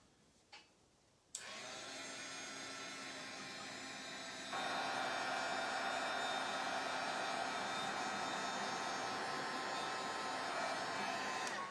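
A hair dryer blows over a mixed media Christmas canvas to dry paint, starting abruptly after a brief quiet moment with a small click, then running as a steady loud whoosh that steps up to a stronger setting midway.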